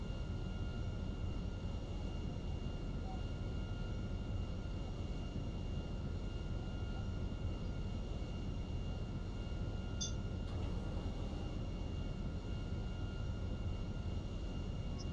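A jet airliner descends toward an airport in GTA V, a continuous, even engine roar and wind rush holding steady the whole time with no break.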